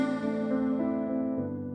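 A lingering reverberant tail of a voice slowly fades, its brighter overtones dying away first while the lower tone hangs on.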